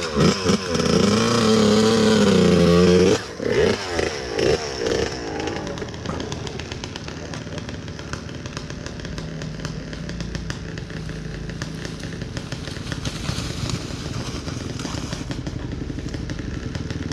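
KTM EXC-F 250 Six Days enduro motorcycle revving hard up close at first, then riding on with a continuous buzzing engine note and clattering over rough, muddy ground.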